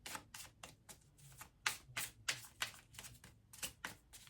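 Tarot cards shuffled by hand at close range, a quick irregular run of crisp riffling slaps and flutters.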